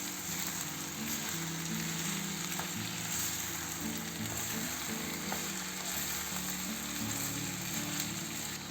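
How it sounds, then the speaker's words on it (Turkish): Rice and diced tomatoes sautéing in a pan for stuffed peppers in olive oil, giving a steady, moderately loud sizzle and frying hiss with faint stirring scrapes and no talk. "Şimdi küp küp doğramış olduğum domateslerimi ilave ediyorum. Onlarla da birlikte bir kavuracağım."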